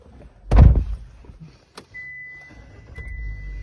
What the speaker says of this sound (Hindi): तो डोर क्लोज कीजिए